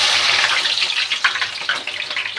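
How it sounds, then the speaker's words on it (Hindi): Onions dropped into smoking-hot mustard oil, a loud bright sizzle and spatter that starts at once and carries on steadily with crackling pops throughout. "इसको मैं खूब अच्छे से जला लूँगी और फिर प्याज डालूँगी। इसके अंदर मैं डाल दूँगी प्याज"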